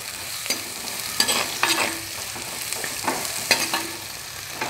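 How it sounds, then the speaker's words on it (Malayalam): Garlic sautéed in a pan for a prawn masala gives a soft continuous sizzle with repeated spatula scrapes and stirs at an uneven rhythm, close by and without speech. "വെളുത്തുള്ളി ഇതെല്ലാം ഇട്ട് വഴറ്റുകയാണ്"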